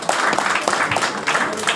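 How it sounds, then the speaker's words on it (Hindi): An audience at a restaurant chef competition event claps together in a brief burst of loud, close applause, uneven and crowded, with no voices on top. "एक बार जोरदार तालियां सचिन"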